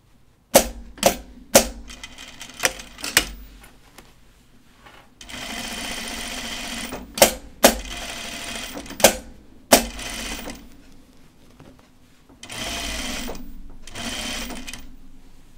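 A sewing machine stitches a shoulder seam on a raglan top in short bursts of rapid whirring, separated by sharp clicks and knocks from handling, close and clear with no talking.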